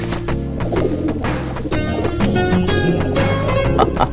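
A pigeon coos repeatedly in a Telugu film scene from Shiva Shankar, close and clear, the soft rhythmic calls layered over a light background score with no talking.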